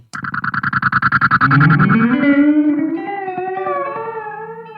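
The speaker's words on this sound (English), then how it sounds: "there's a little metallic flutter that's above. It's because it's lo-fi. It's so that, like a bit crushed type echo on it." A Teisco delay pedal processes a guitar, starting with rapid repeated picked notes, then sustained chords smeared into a lo-fi, crushed echo with a wavering metallic flutter, loud and alone with no talk.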